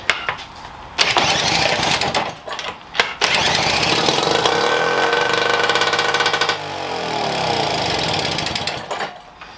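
A British Seagull outboard motor, previously non-running, coughs into life and runs in loud, rough, steady bursts with brief stutters and pauses before settling into a continuous buzzing drone close by.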